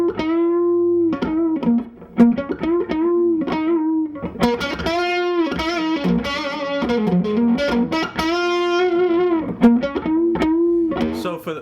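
A distorted electric guitar, its strings picked hard with no palm muting, ringing out as loud, sustained notes and chords in a continuous phrase.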